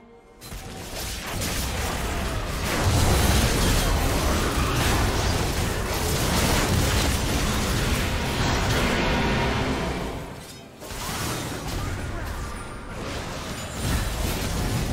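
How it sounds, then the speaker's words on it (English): A turret destroyed in League of Legends, a loud sustained crumbling explosion rumble with bursts and pops that swells, dips briefly near the end, then resumes, with no talk over it. "Blue team's turret has been destroyed."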